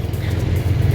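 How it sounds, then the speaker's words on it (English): Loud street traffic fills Chiang Mai's old city in Northern Thailand, a close, steady engine rumble of passing cars and motorbikes with no voices. "Excuse the traffic noise folks,"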